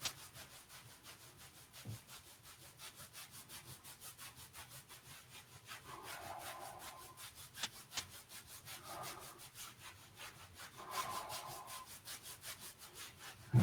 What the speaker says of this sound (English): now another thing we can do is just heat this area up by just rubbing it